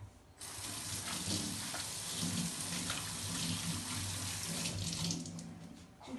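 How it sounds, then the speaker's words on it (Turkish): Water runs steadily from a tap into a sink while hands are washed, making a close, continuous splashing rush that starts abruptly and cuts off near the end. "Hemen şu elimi bir yıkamak istiyorum."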